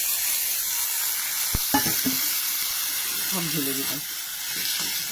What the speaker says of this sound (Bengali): আর এই যে এই আলুগুলো যেটা আমি ঘষে নিয়েছি, সেই আলুগুলো এখানে দিয়ে দিলাম। কেমন, সব ঢেলে দিলাম